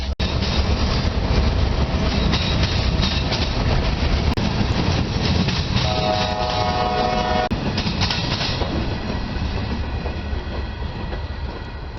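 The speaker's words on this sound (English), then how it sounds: "So this is a metal detection train." A metal detection train rolls along railroad track near a pipe company yard, a loud continuous rumble and rattle of wheels on rails, with a steady horn-like tone sounding midway before the noise slowly eases.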